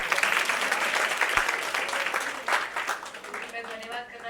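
Loud, dense applause from children and girls seated in the audience at a Women's Day celebration fills the room steadily throughout, with a voice speaking over it.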